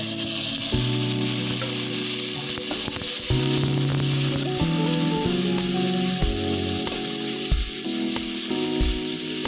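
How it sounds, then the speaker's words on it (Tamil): Tomatoes frying in a pan with curry leaves give a steady, hissing sizzle throughout, mixed with scraping stirring and tonal hums from the cooking setting, and no talking. "இப்போ தக்காளியை போட்டுக்கோங்க"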